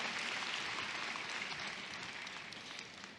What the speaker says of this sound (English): Please join me in another rousing round of applause for our concert chorale.